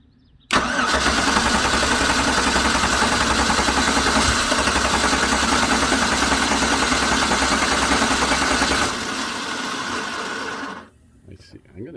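A 2009 GM truck engine, recovered after theft and suffering a crank-no-start fault, cranks steadily and loudly for about eight seconds, trying to fire without catching, then stops.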